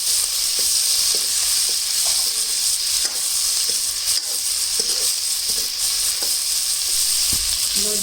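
Thick tomato chunks and browned onions fry in a pan with a loud, constant sizzle, broken by occasional soft scrapes and knocks as the mixture is stirred.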